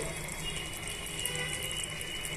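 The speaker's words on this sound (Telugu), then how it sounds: "అటు ఇటు మిక్స్ చేసుకున్న తర్వాత తగినన్ని నీళ్లు పోసుకోండి" Steady rushing of water being poured into masala dosa batter, a continuous hiss with no breaks, close by and moderately loud.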